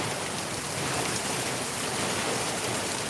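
Heavy rain pouring down in Darbhanga, a dense, loud, steady roar of drops hitting surfaces that fills the air evenly from start to finish, with no voices.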